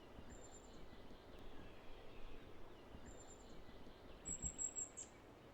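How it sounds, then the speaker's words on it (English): Thin, high chirping calls of young birds come in a few brief bursts, faint and distant over a steady outdoor background hiss. "faint but unmistakable calls can still be heard"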